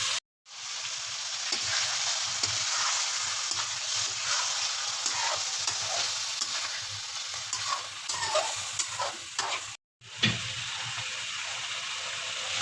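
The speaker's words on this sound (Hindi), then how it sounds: "ये देखें जब पानी खुश्क हो जाए इसकी अच्छी तरह हम बुनाई करेंगे।" Mutton karahi stir-fried in mustard oil sizzles loudly and continuously up close, with a brief cut to silence near the start and another near the end, and the scrape of the spatula scattered through the hiss.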